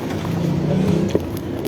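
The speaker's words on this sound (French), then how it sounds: "Je suis dans le bus." Steady low engine rumble and road noise inside a city bus during a ride, with a faint short knock partway through and no talking.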